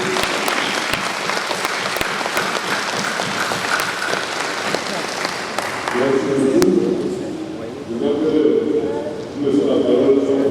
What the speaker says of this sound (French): Je crois que nous allons applaudir ce grand panel